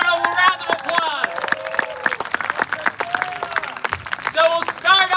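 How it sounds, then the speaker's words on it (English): Applause at a community ceremony welcoming a new Torah scroll. Distinct hand claps from a small crowd ring out steadily and fairly close between bursts of speech at the start and end. "Let's give everyone a round of applause."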